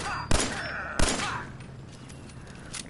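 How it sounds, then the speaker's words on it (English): Two sharp gunshots ring out in the video game Fallout 4 as rust buckets are shot, about a second apart, each followed by a short decaying echo, then quieter background ambience. "I didn't know you could shoot rust buckets."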